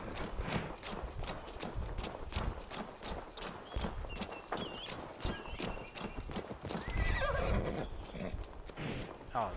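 A horse gallops in Assassin's Creed Valhalla, steady rapid hoofbeats close by with a whinny near the end, while someone talks over the hooves.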